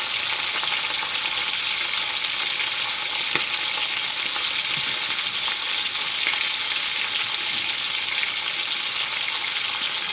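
Pork chops sizzle steadily in a frying pan, a constant close crackling hiss with a few faint clinks, and no voices.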